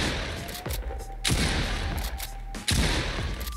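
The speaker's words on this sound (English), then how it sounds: "Then for shotgun." A video game shotgun fires three heavy booming blasts, each roughly a second and a half apart, with a short rumbling tail after each shot.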